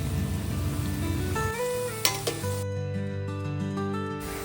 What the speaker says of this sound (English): Now that the oil is hot, reduce the flame to medium and carefully add the shaphaley to fry.